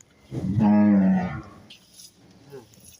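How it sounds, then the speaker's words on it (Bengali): A Holstein Friesian dairy cow lets out a single loud, drawn-out moo close by, followed by quieter low grunts and faint background noise. "এগুলা দুধের গরু।"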